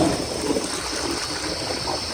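A 1992 ADA URC Apollo toilet flushes up close, a steady rushing and gurgling of water that holds at an even level for the whole short stretch, with no voices.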